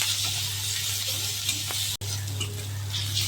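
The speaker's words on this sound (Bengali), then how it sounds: "পেঁয়াজ কাঁচা লঙ্কা ভেজে নেব।" Onion and green chilli frying in hot oil, with a steady close sizzle and light stirring that carries on evenly with a brief break midway.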